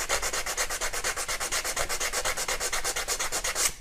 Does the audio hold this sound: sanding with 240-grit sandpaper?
yes